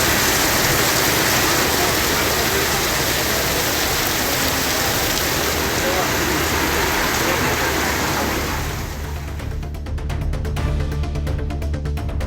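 Dense, loud heavy rain pours steadily in Tamil Nadu, India, a broad roar that thins slightly near the end into scattered dripping and splashes.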